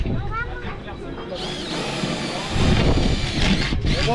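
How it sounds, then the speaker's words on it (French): A power drill bores holes for boat gantry feet, a whirring, grinding drone that rises in pitch and grows louder partway through, close and continuous with some clatter. "là tout de suite on va percer pour les pieds ici"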